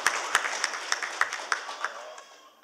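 Audience applause at a 2020 leadership day event in Cambodia, a crowd clapping steadily with sharp louder claps standing out, gradually thinning and fading toward the end.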